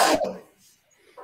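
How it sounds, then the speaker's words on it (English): A single sharp sneeze from someone off to the side during a football chat, brief and fairly close, followed by quiet. "Somebody just sneezed."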